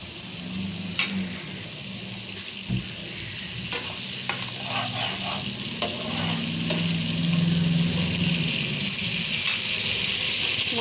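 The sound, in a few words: spice paste frying in a pan for bata fish curry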